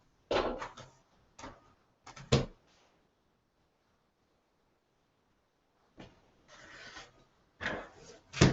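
Fabric pieces for a Dear Jane quilt block are trimmed in short bursts of rubbing, scraping cuts, several quick strokes, then a silent pause, then more strokes, close and quiet with no voices.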